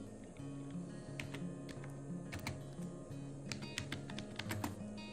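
Rapid clicking of a computer keyboard as code is typed into an editor, quick uneven keystrokes with a few sharper taps, quiet and close over a low steady hum, no voices.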